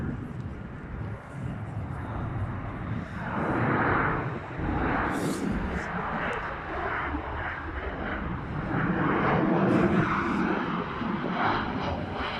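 At night, a Boeing 737 lands at Copenhagen Kastrup Airport, its jet engines a steady broad roar that swells slightly as it passes, heard from a distance.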